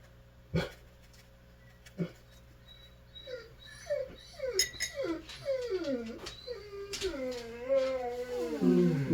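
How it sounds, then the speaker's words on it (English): An agitated dog reacts to someone outside, with a couple of sharp barks followed by a long run of rising and falling whines and whimpers growing louder toward the end, fairly close. "my dog is having a hissy fit because how dare someone exist outside."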